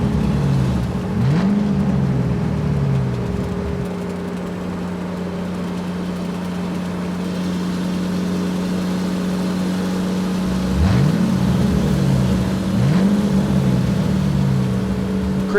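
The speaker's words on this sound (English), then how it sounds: "Cement truck." Toy cement truck driving with a continuous motor hum, broken by a few short rising whooshing sweeps at the start and again near the end.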